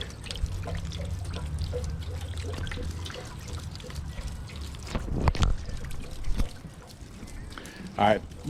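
Water drains from the water heater of a 2016 Thor Hurricane 34J motorhome, trickling and splashing steadily from a pipe, with a few louder gushes and clunks, while a person speaks over it.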